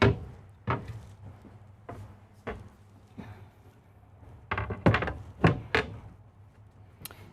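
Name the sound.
soft-closing solid wood cabinet drawers in an RV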